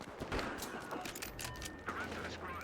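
Gunfire in a Battlefield Hardline multiplayer match, with an AWS sniper rifle in use: quiet repeated sharp shots and scattered cracks over ongoing battle noise, with some talk mixed in.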